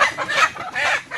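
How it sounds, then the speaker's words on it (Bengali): A red rooster clucks loudly and agitatedly up close while being caught, in two quick bursts of squawking calls. "তো এবার কিন্তু আমি এই লাল মোরগটা ধরবো বন্ধুরা।"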